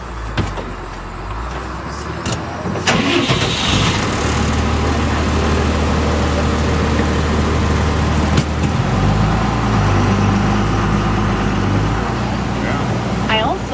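A diesel-powered amphibious Army duck tour vehicle rumbles steadily at close range with a low engine drone that shifts after a few seconds, along with a brief clunk and a guide speaking over it.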